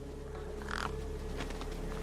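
A bird caws in the futuristic adventure game Beyond a Steel Sky, a single harsh call rising briefly over a steady low game hum, fairly close and alone without speech.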